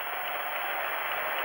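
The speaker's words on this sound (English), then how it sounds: "Gets a big cheer from the crowd." A crowd cheers and applauds the winner at a 1988 badminton Grand Prix final, a steady, dense wash of clapping that lasts throughout.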